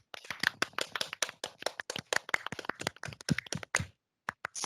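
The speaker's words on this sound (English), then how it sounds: "Let's have a round of applause for Tricia." A small virtual happy-hour audience gives a presenter a round of applause: dense, close hand claps that run for about four seconds, stop, and then a few scattered claps trail off.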